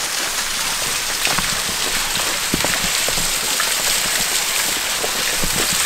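Waterfall roaring as a dense, constant hiss of falling water, close and loud throughout, with no voices.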